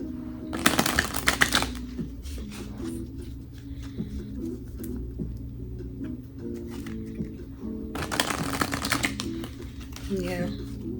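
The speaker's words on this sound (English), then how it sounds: "I'm just going to shuffle a little bit here." Oracle cards are riffled and shuffled in two short bursts of crisp flapping, with a person talking softly in between.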